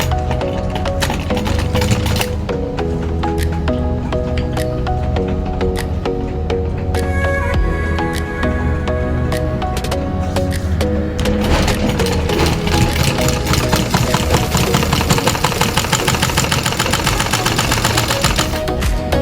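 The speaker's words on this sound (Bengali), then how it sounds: "এইভাবে এখন আমরা নর্মালভাবেই সেলাইটা দিয়ে নেব।" A sewing machine stitches the side seam of a kameez with piping, running in a loud, rapid mechanical rattle that keeps going with short pauses and speeds up toward the end.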